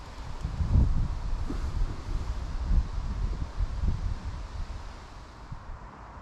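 Wind gusts over a coarse fishing spot and batters the microphone, a low rumbling buffet that surges and eases in uneven waves, near and fairly loud, with faint rustling behind and no talk.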